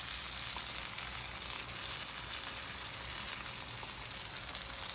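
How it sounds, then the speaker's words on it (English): Fish and chips fry in hot oil, a dense, steady sizzle that continues evenly throughout, close by and uninterrupted by voices. "You make them fry properly on one side and you turn them over"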